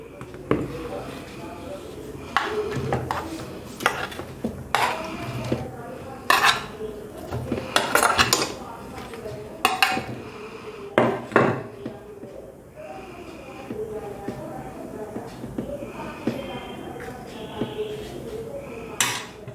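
Steamed rice dumplings (neer urundai) are shifted into a metal vessel, giving repeated close clinks and scrapes of utensil against pot in irregular bursts while someone talks throughout.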